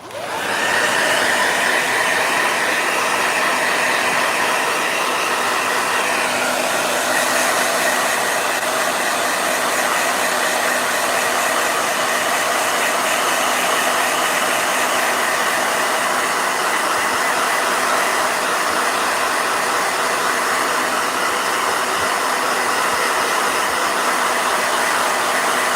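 A blow dryer runs steadily to dry a watercolor painting of Klaus, a loud continuous whoosh and hum holding from the start to the end with no breaks.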